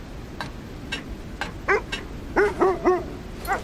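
Sled dogs in the video game Kona II: Brume bark in a series of short, fairly close yips and barks, a few scattered at first and then a quicker cluster toward the end, over a low background hum.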